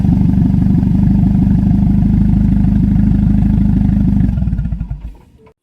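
A Ford Focus idling with its electric exhaust cutout valve open gives a loud, steady, throaty exhaust drone with a fast pulsing rumble close by, then the engine shuts off and the sound dies away.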